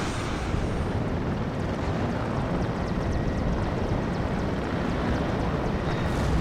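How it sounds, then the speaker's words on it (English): A military helicopter in the WARNO strategy game flies with a continuous, loud, rushing roar of rotor and engine that stays steady and close the whole time. "Alright, helicopter up."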